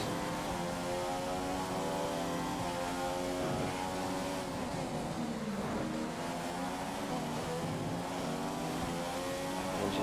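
F1 race car engine in F1 2016 at the Australian Grand Prix, a loud continuous high-revving whine with rising and falling gear shifts, droning steadily throughout.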